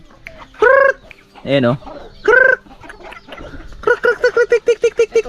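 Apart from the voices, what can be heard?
chickens clucking on a farm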